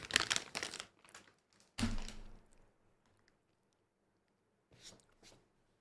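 Crunchy Red Rock Deli sweet chili and sour cream potato chips being chewed close up, a few loud crisp crunches in quick bursts followed by quieter bites with pauses between.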